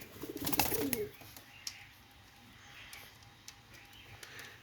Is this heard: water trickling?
no